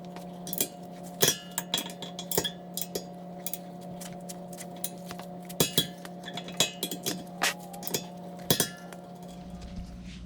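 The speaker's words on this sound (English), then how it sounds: "with our bracket bolts in, we can go ahead and torque those up" Torque wrench tightening brake caliper bracket bolts on a 2017 Mazda CX-5, heard as a scattered run of sharp metallic clicks and clinks over a steady low hum, close and moderately quiet.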